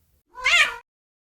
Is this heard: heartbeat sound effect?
no